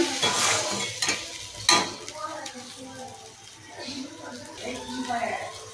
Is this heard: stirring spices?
yes